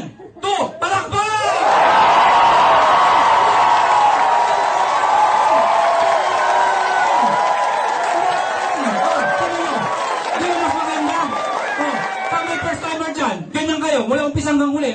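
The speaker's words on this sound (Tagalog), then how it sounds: "Sabay-sabay tayo ha? Lahat papalakpak ha? 1, 2, palakpak!" A crowd at a gathering claps together in unison, a sustained burst of applause and cheering lasting most of the clip, with a speaker's voice heard before and after and over parts of it.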